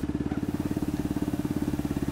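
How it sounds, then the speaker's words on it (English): A Honda 5 hp four-stroke, water-cooled single-cylinder outboard runs steadily near the boat's transom, with a fast, even putter that stays close and moderately loud throughout. "motor is running, there's very little vibration in the tiller"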